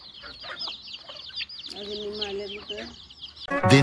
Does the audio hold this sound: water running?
no